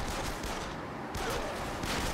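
Dense, loud gunfire in Yakuza Kiwami, a nonstop rattle of shots that briefly eases before bursting again, no talking.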